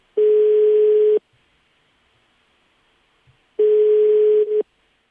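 An unanswered phone call rings out as two loud, identical tone bursts about a second long, separated by a few seconds of near silence.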